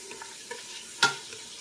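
Vegetables for a chicken and broccoli soup sizzle softly in a pan while being stirred, with one sharp scrape of the utensil standing out partway through. No one speaks.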